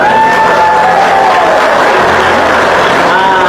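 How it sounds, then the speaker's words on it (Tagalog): An audience at a Seventh-day Adventist gathering breaks into steady applause, a broad, continuous wash of clapping that fills the space with crowd murmur and some voices mixed in. "Pwede po bang pumalakpak kayo tayo?"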